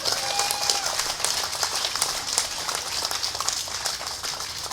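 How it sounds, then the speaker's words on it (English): Crowd clapping at an outdoor National Day gathering in Hong Lim Park, Singapore: steady, dense applause from a large audience, moderately loud and sustained throughout. "Shall we give him a big clap?"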